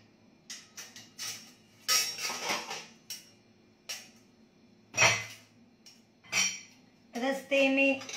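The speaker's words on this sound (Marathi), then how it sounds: "भांडी लावती" Kitchen utensils are put away in a home, with a series of separate clattering clinks of metal pots and plates, some louder bursts, spaced irregularly with short quiet gaps.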